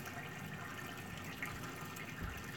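Water pouring from a tipped container while acclimating a wrasse for an aquarium, a steady close trickle and splash that runs without pause.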